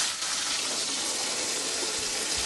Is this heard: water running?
yes